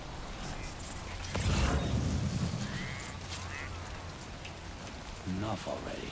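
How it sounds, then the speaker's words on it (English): Steady rain hisses over the landscape in Death Stranding 2, a dense broadband wash with a louder burst early on, while a voice speaks faintly in places beneath it. "Oh, rain's not good."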